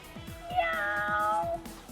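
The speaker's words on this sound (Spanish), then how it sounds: "Algunos magistrados sintieron cierto maullar felino." A cat meows once in a drawn-out, whining call lasting about a second, close and clear over a low, rhythmic background thump.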